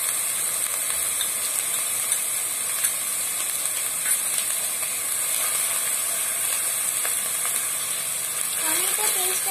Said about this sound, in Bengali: এবারে দিয়ে দিচ্ছি টমেটো পেস্ট।